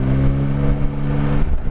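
Yamaha Tracer 9 sport touring motorcycle engine shifting down to fifth gear, a steady, fairly loud mid-pitched engine drone that holds evenly and shifts slightly near the end, with no talk over it.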